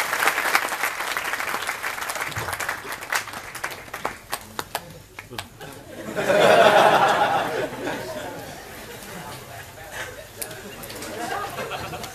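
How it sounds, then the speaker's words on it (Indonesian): Audience applause at a religious gathering, scattered clapping with crowd chatter and light laughter, swelling into a louder burst of clapping partway through before fading into murmuring voices. "tepuk tangan untuk beliau."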